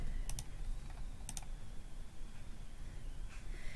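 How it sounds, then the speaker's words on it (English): A computer mouse gives two or three sharp, quiet clicks on a link, heard close over faint room hiss with no talk. "I'm going to click on that."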